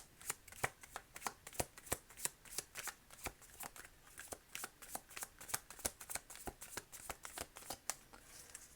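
A deck of tarot cards being handled and shuffled, a quick irregular stream of crisp slaps and riffles repeating steadily, close and fairly quiet, with no voices.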